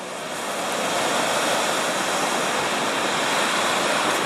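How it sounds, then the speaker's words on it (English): Waves on Lake Huron at Grand Bend, a loud continuous broadband wash of surf swelling in over the first second and then holding steady, close by, with no voices. "the waves are starting to be like this high"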